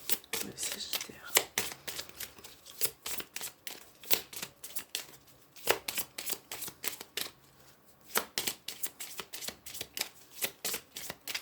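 A deck of tarot cards being shuffled and cut, a steady run of close, crisp riffling flutters and slaps with short pauses throughout.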